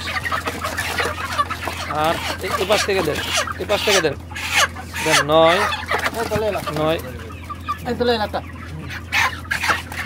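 Several chickens being sold from a poultry shed cluck and squawk close by, repeated agitated calls over a low steady hum, while people talk intermittently.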